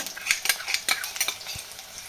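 Chili and garlic sizzling and frying in a pan for a traditional Marathi tandulja greens dish, with a spoon stirring and scraping in repeated short strokes, close and steady.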